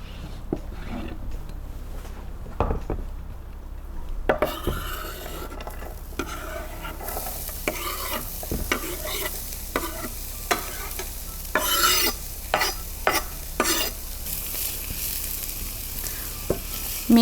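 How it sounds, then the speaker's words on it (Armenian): Onion fries and sizzles in a pan while a utensil stirs and scrapes it, producing a steady hiss punctuated by repeated stirring clatters and scraping strokes, close and clear with no talking. "Ահա, գնացինք սոխը տապակելու։"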